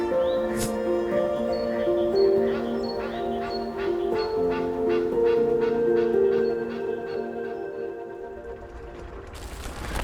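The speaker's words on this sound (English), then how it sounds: "We hear so many different species of birds." Wetland birds in Hortobagy National Park call in a busy chorus of honking, quacking notes with repeated goose-like calls, moderately close over an open-air background.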